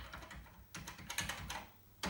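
Keys on an Amstrad CPC 464 home computer keyboard are pressed in irregular bursts, clicky plastic taps close by, with short pauses between groups and no talking.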